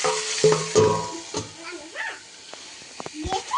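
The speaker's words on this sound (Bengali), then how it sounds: "কড়াইতে বসিয়েছি পটল ভাজা তো পটলগুলোকে তেল লবণ দিয়ে এই যে ভাজতে বসিয়ে দিয়েছি" Pointed gourd (potol) pieces fry with oil and salt in a wok, giving a steady sizzle broken by a few close stirring clanks and scrapes, with faint whining sounds in between.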